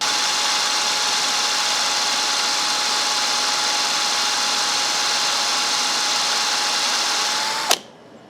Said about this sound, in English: So now we'll just go ahead and drill into that.